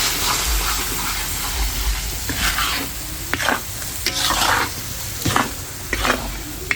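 Chaat masala and turmeric being stirred in a pan over a steady frying sizzle, with a few sharper scraping strokes of the spoon against the pan toward the end; no talking.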